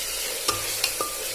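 Mutton fries in a pan with a steady, quiet sizzling hiss, broken by two or three light clinks of a stirring spoon.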